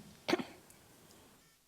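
A woman clears her throat once, a short close rasping burst followed by quiet.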